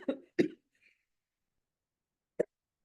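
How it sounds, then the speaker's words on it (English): A few short coughs, two close together at the start and a single one after a pause, near and fairly loud in an otherwise quiet room. "there's some coughing for you"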